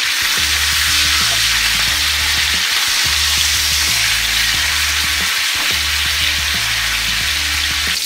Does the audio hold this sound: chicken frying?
yes